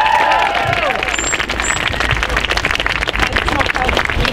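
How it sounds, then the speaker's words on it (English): A rally crowd applauds a speaker, with dense, sustained clapping mixed with crowd noise and some voices, holding steady throughout. "So big round of applause for Bonnie."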